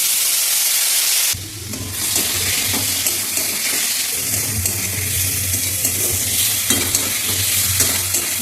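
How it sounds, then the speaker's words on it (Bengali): Turmeric, cumin powder and a little salt sizzle in a pan with very little oil, a continuous frying hiss with scraping stir strokes close by. "ভালো করে একটু কষাবো এটাকে, মশলাটাকে"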